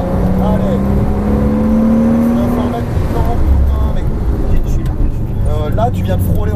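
A Porsche Cayman S accelerating hard on a race track, engine climbing in pitch through gears with a rising whine, loud and close, while a person talks over it throughout.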